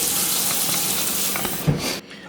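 Water runs steadily from a tap, splashing and hissing over rice being rinsed, then cuts off abruptly near the end.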